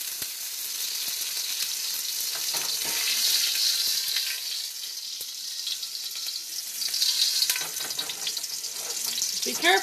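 Frozen stir-fry ingredients sizzle in a hot pan with a steady, loud hiss and crackle that runs throughout, with a little faint background noise.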